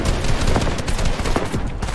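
Gunfire in the battle royale video game Fortnite during tournament practice, a dense run of rapid shots crackling steadily for two seconds, close and loud, with no talk over it.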